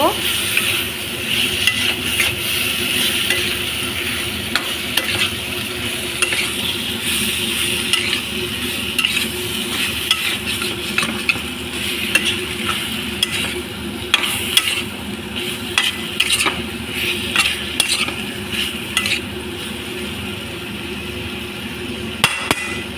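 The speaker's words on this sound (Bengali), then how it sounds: "এবার এর মধ্যে আলু আর এঁচোড় দিয়ে দিলাম দিয়ে ভালো করে মিশিয়ে নেব" Raw jackfruit and potato pieces being mixed in a pan of frying masala, a dense constant sizzle with frequent scraping and knocking of the spoon against the pan throughout.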